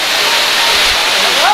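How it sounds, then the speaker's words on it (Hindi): A mountain waterfall on the Kedarnath trek pours with a steady, close, broadband rushing roar that holds at an even loudness throughout. "दिख रहा झरना पानी का"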